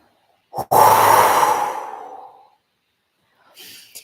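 A single long exhale through the mouth, breathy and close, swelling quickly then fading over about two seconds, with a short faint breath afterward.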